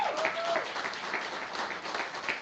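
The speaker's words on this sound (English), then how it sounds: "Let's give him a round of applause." Audience applause for a sheriff at a political campaign event for a state representative candidate, steady mid-level clapping from a crowd, filling the short clip evenly.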